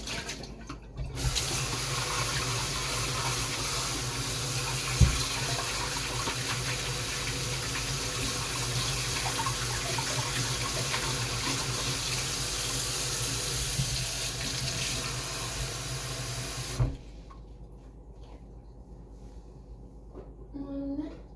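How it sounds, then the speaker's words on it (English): A kitchen tap runs in a steady, close gush while pet bowls are rinsed, the flow holding for about sixteen seconds before shutting off to near silence, with a brief knock partway through. "I need to rinse their bowls again."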